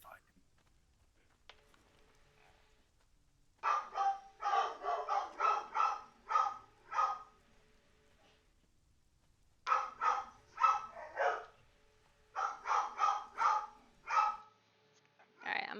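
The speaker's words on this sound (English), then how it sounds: "I'm gonna go deal with my dogs who are having a seizure" Dogs bark in two separate bursts of quick, clustered barks with a long quiet gap between them. The barking is fairly close and moderately loud against a near-silent background.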